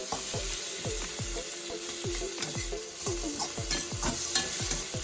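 Chicken sautés in curd in a pan with a loud, steady sizzle and frying crackle. A spoon scrapes and stirs at a regular rhythm throughout, close up, with no voices.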